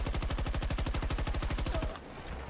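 Rapid automatic gunfire from an M5A3 in Battlefield 2042 rattles in a fast, even burst for about two seconds, then cuts off, leaving quiet background.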